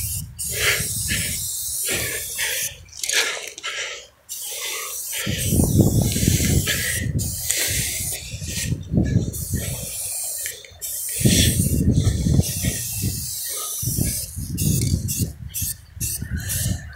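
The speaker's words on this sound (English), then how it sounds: "That nice fat spray with these caps." Aerosol spray can fitted with wide fat caps, hissing in repeated bursts of varying length, some long and steady, others short, close and loud, with a few gaps between sprays.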